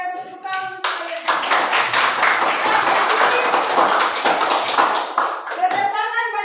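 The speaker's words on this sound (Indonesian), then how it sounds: "Kita berikan tepuk tangan untuk kalian." Classroom of students clapping for their classmates at an Indonesian school lesson, a dense burst of quick hand claps lasting several seconds, with a teacher's voice before and after.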